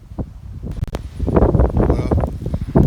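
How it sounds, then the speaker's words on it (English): Wind gusting outdoors after a storm beside a chicken coop and run, a steady close rumble buffeting the microphone, rising and falling throughout with brief rustles. "Well, I apologize for the wind"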